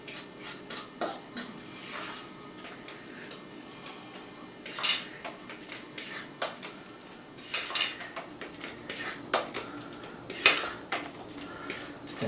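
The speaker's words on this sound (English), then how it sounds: "I'm going to mix it with my fork" A fork stirs a meatball mixture of breadcrumbs and egg in a bowl, producing quiet, irregular clinks and scrapes against the bowl in short bursts, close by, with no talking.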